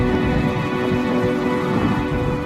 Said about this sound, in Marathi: आणि पाऊस पण पडतोय